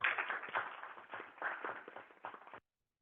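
Scattered hand claps from the audience at a school board of education meeting patter quietly and unevenly for about two and a half seconds, then cut off abruptly.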